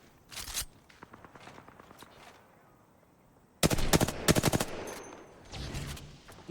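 A charge rifle fires in an online video game: a quick burst of clipped shots early on, then a denser rapid volley midway followed by a softer trailing burst, all fairly loud over low game ambience.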